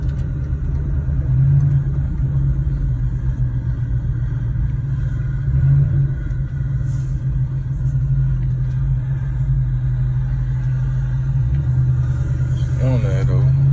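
A car rolls over a bumpy neighbourhood road, its low rumbling road and engine noise steady and close throughout, with someone talking over it and a brief rattle near the end.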